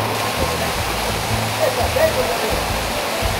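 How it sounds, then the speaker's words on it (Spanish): Cascada Volareso waterfall near Portovelo, Ecuador, roaring as a steady broadband rush of falling water heard up close, loud and continuous throughout with no break. "Estamos en la cascada Volareso"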